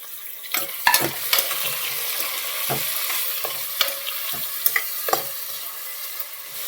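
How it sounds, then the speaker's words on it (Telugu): Onion, garlic, cumin and fenugreek fry in a pan with tomato and tamarind added for mudda pappu, a continuous close sizzle punctuated by repeated scraping and clacking stirs of a utensil. "ఉల్లిపాయలు తెల్లగడ్డలు జీలకర్ర మెంతులు వేగినాయి కదా ఇప్పుడు మనం టమోటా చింతపండు వేసుకుందాం"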